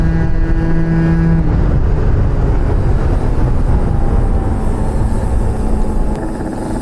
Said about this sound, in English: And that Yasuni C10 exhaust, it is loud